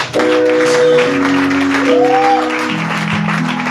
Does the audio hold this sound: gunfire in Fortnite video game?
no